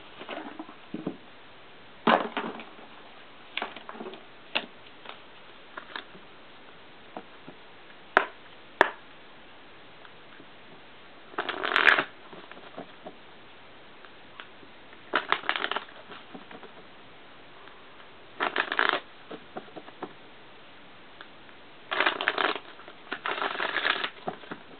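Tarot cards being shuffled during a love reading, heard as repeated riffling bursts of several seconds each separated by quieter pauses, close and clear with no talking.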